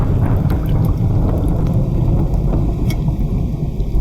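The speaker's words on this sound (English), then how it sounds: "Here comes some thunder, beware." Thunder rumbles low and heavy on a mountain top, a loud, continuous roll with wind buffeting the microphone and a few crackling pops, no speech.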